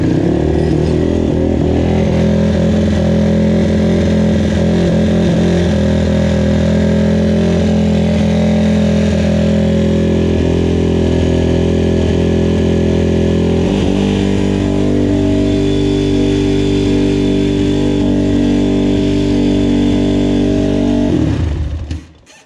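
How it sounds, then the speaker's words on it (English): A 2005 Honda TRX450R ATV engine revs hard and steadily at high RPM, loud and close, holding a sustained roar before a brief dip midway and a sudden cutoff near the end, with no talk over it. "She's high revving like that."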